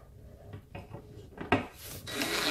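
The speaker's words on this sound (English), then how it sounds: "insert your H9 screw into the side panel and your brace" A screw is driven into the wooden side panel of a foosball table during assembly, producing close, quiet scraping and grinding bursts that build into a steadier rasp over a couple of seconds.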